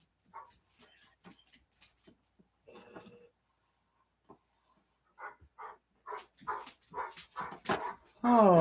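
A 13-year-old senior dog named Levi lets out scattered barks and whimpers up close, growing busier and louder toward the end, with a voice heard alongside.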